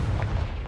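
A Confringo blasting spell goes off in Hogwarts Legacy, a dense low rumbling burst that fills the short moment and stays heavy and close throughout.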